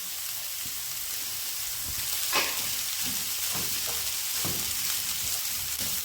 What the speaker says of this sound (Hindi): हमने सब्जियों को बहुत ज़्यादा नहीं पकाना, बस 30 सेकंड के लिए मैंने इन्हें पकाना है